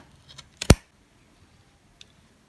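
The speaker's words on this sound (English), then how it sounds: "you just snip the ends off" A single crisp snip of scissors cutting through yarn ends wrapped around cardboard or foam for amigurumi crochet doll hair, near and quiet, with a couple of faint clicks before it and a tiny tick afterward.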